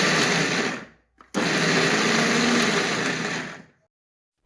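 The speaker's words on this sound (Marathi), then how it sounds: "ती मी मिक्सरच्या पॉटमध्ये टाकून क्रश करून घेत आहे थोडीशी भरड काढत आहे" A mixer grinder coarsely crushing soaked moong dal whirs loudly and steadily in two close bursts, with a brief stop between them and silence after the second burst ends.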